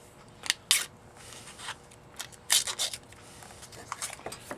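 Strip of tape pulled off a roll and pressed onto a nut's threads at a woodturning bench while making wooden faceplates; several short, sharp tearing rips, close and fairly quiet, with pauses between them.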